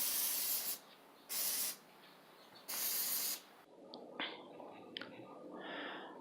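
Three short bursts of an aerosol can spray Plasti Dip rubber coating onto a BMX bike frame, each hiss lasting about half a second and heard close up, followed by quiet handling noises.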